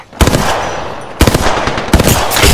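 Video game gunfire from an automatic weapon in three loud rapid bursts, each a close rattling volley with brief pauses between, no talk.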